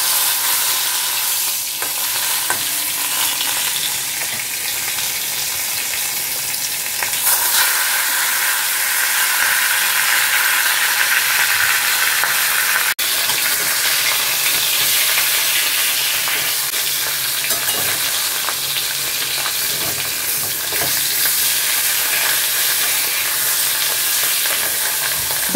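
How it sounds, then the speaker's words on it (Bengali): Catla fish pieces rubbed with salt and turmeric frying in a little oil, a loud, continuous close sizzle and hiss with occasional stirring scrapes, steady for the whole stretch. "প্রথমেই দেখো মাছগুলো ভাজবো।"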